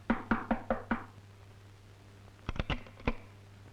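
Two bursts of knocking on a window shutter at night: five quick raps, a pause, then four more, crisp and close against a low steady hum.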